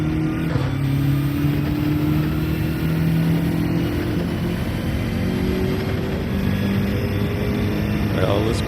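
BMW race car engine in the Gran Turismo 7 racing game, revving with rising and falling pitched tones as it shifts through gears, a continuous loud drone with a player talking briefly over it.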